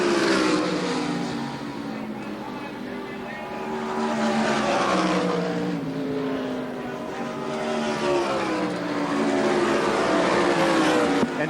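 Race cars roar around the track at the 1987 Syracuse National Auto Supply 320, a steady loud engine drone with rising and falling pitch as cars pass, while an announcer talks over the noise.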